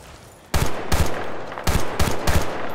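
Gunfire in the video game Battlefield Bad Company 2: a loud burst opens after a brief quiet, then several sharp automatic-weapon bursts follow in quick succession, close and punchy, with no talk.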